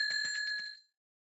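A bell is struck several times in quick succession, a bright sustained ring with a trembling shimmer that rings out clearly and then fades to silence within a second.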